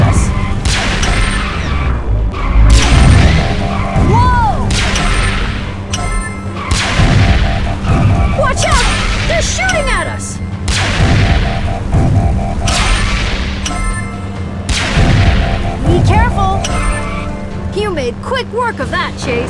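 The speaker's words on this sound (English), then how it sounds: "They're shooting at us!" Enemy gunfire and explosions hit repeatedly in a Transformers Rescue Bots game, with loud booms, crashes and thuds recurring every couple of seconds over a steady music bed, while a voice speaks at times.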